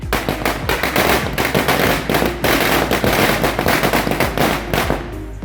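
Firecrackers burst in a dense, continuous barrage of loud, rapid cracks and pops, greeting guests at the inauguration ceremony of a consumer protection committee. There is no speech.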